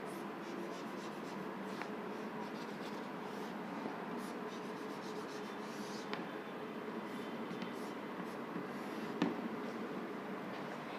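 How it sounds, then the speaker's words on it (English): Pen or marker scratching steadily across paper or a board while an electrical circuit is sketched by hand, a continuous close-up scribbling texture with a few short taps, no voices. "first I draw one electrical circuit"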